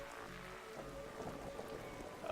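Rain falls steadily in the night scene of the video game The Darkside Detective, a soft, dense hiss of drops with faint low rumbling, quiet and uninterrupted by speech.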